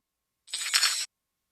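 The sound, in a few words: reversed car keys jingling, drum effect in music production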